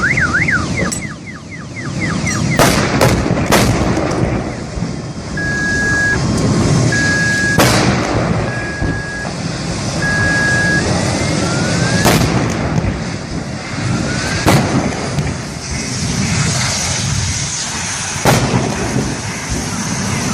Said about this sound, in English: Something suddenly exploded with immense force, shattering everything around it in an instant.